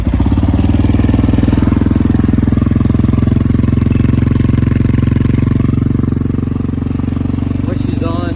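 A 2008 Husqvarna SM610 motorcycle sits close by at idle, its engine giving a loud, steady, rapid thumping putter that holds throughout, with someone talking over it.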